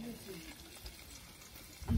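Garlic tempering sizzles faintly in hot oil in a kadhai, a soft continuous frying crackle that ends with a brief low thump.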